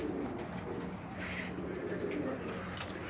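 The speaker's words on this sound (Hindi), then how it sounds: "माशाल्लाह जी अच्छे कबूतर" Breeder pigeons coo in soft, repeated throaty calls close by, over a low, steady background murmur.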